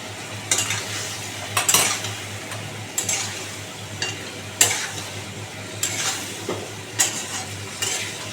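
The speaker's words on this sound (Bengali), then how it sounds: "নুনটা দেওয়ার পর কিছুক্ষণ নাড়াচাড়া করে" Pumpkin curry with salt just added, stirred in a pan: a spoon scrapes and clinks against the metal in a steady series of sharp strokes roughly every second, with a faint sizzle underneath and no talking.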